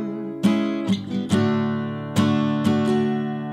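Acoustic guitar strumming chords from a song, a handful of clear strums ringing out in a loose rhythm, close and bright with each chord decaying before the next.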